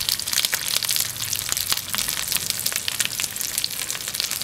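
Fish wrapped in banana leaf fries on a hot tawa, a continuous busy sizzle with sharp crackles and pops, fairly close and uninterrupted.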